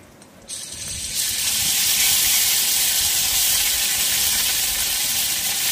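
Whole cumin, cumin paste and ginger paste hit hot oil with a sudden loud, steady sizzle and hiss that swells after a quieter start and holds strong throughout, nearby and alone.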